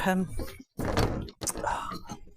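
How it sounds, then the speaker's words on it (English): A greenhouse door is pulled shut in a garden, giving a brief broadband thunk after a short silence, with someone talking before and after it. "I'll shut the door"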